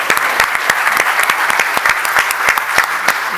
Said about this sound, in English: maybe I think we can applaud all of you because you did a great job